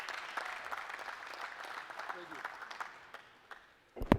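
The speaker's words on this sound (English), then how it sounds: "Let's give it up for 6th District Councilman Scott Rakos" Audience applause at a Mayor's Night Out community meeting for a city councilman, scattered claps sustained under a speaking voice before a louder thump near the end.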